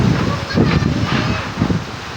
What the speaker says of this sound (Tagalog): Pumasok na yung hangin, ulan dito sa terrace.